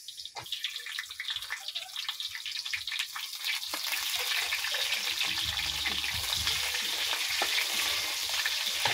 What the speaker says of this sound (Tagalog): Tapos i-brown ko po yung bawang. Tapos yung sibuyas.